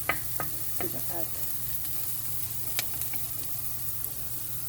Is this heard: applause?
no